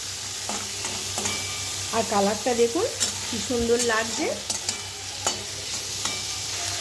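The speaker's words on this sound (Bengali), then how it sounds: "চিংড়ি মাছগুলো দিয়ে তিরিশ থেকে চল্লিশ সেকেন্ডের মতন হালকা আঁচে নাড়াচাড়া করে নেব" Prawns sizzle in a pan over low heat as a spatula stirs them, with steady frying and scraping strokes while someone talks over the cooking.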